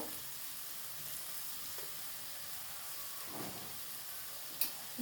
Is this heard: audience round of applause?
no